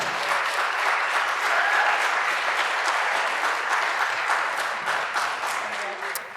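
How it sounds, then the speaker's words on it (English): Sustained applause from a large crowd at a community media awards ceremony, dense and even throughout, with a few individual claps standing out before it fades slightly at the end. "Let's applaud Jamie Nesbitt Golden, this year's winner of Public Narrative's Uplifting Voices Award."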